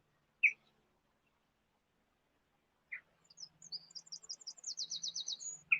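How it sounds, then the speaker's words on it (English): Birds at Leeds Castle in Kent, where waterfowl gather, give a few sharp isolated chirps followed by a rapid run of high repeated tweets in a quiet outdoor setting, with no voices. "They have a lot of wildfowl, waterfowl here, lots of birds."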